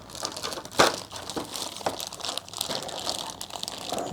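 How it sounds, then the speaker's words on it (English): Plastic wrapping crinkles and crackles as a Lenovo 100 wireless keyboard is unboxed, close and fairly quiet, with one sharper crunch early on followed by irregular rustling handling sounds. "So it comes nicely wrapped in plastic."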